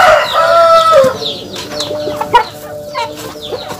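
Kampung chickens, three hens and a rooster, in a small village coop, with a loud crow at the start followed by close, repeated clucks and squawks, alone without talk.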